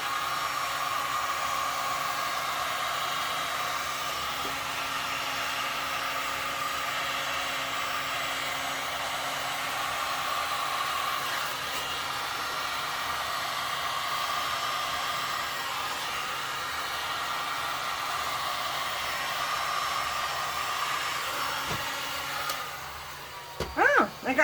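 A heat gun blows a steady, close airy whoosh across freshly poured black and white resin to pop air bubbles, running unbroken for over twenty seconds before a few sharp clatters at the end.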